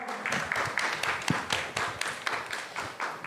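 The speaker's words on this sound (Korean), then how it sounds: "오래간만에 오니까 박수를 다 치네요" A church youth congregation claps to welcome their senior pastor to the pulpit, a short burst of fairly close, uneven hand claps with individual strikes standing out, moderately loud and steady.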